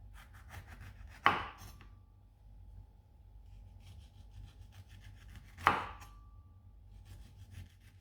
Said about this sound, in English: Peel the second orange in the same way.